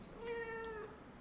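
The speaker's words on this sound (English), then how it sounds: "My cat is now on my desk, walking across me like she owns me." A single drawn-out meow from a cat walking across a desk, close and clear, lasting under a second against a quiet room.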